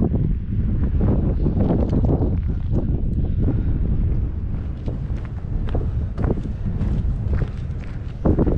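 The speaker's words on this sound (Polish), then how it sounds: "wieje chłodny wiatr" Cold wind blows hard near a glacier, buffeting the microphone with loud, continuous rumbling gusts, along with occasional crunching footsteps as someone walks.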